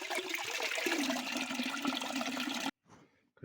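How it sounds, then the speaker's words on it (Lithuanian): Water from a spring rushes in a steady, full gush close by, then cuts off abruptly, leaving faint trickling. "Štai ir atradom tą šaltinį, kur rekomendavo vandens pasisemti."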